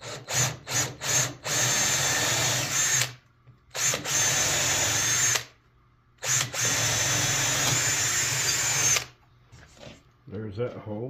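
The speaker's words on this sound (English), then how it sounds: "drill your hole straight through." A power drill bores through cedar in several bursts, starting with short quick pulses, then longer sustained runs with pauses between, and brief speech at the end.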